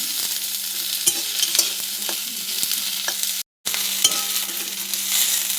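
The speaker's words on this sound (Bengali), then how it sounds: "এবার দিয়ে দিলাম পেঁয়াজ, বেশি ভাজবো না, কাঁচা ভাবটা দূর করার জন্য হালকা নেড়ে নেব" Onions are stirred in a hot pan and lightly fried, giving a steady close sizzle broken by soft scraping stir strokes, with one brief dropout and no talk.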